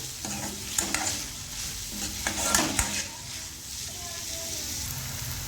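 Onions with a pinch of asafoetida cooking in a pan for kachori filling, a gentle sizzle with a spoon stirring and knocking against the pan a few times, close by, under some faint background voice.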